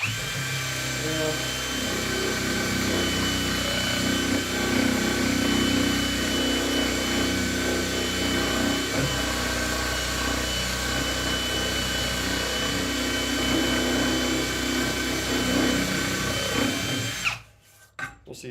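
A brushless power tool sands a steel pipe in a continuous, loud grinding whine that holds steady for most of the stretch before cutting off abruptly near the end.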